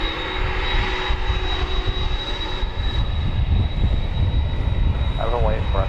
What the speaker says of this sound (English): got a UPS 767 about to take off.